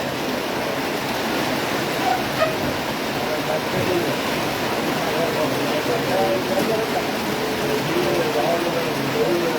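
Heavy rain pours steadily in Comilla, Bangladesh, a dense, even hiss close by with a low rumble underneath, while a faint voice murmurs now and then beneath the downpour.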